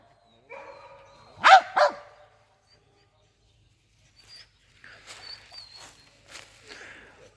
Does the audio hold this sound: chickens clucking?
no